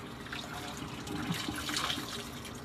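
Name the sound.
scrubber ring swished and rinsed in water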